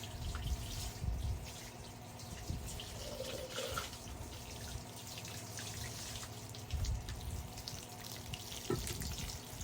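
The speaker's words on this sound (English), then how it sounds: "now it's time to water. Let's water in the new goodies" Water pours steadily onto giant pumpkin plants in soil, a constant splashing hiss with occasional heavier gurgles and drips, close and moderately loud, with no talking.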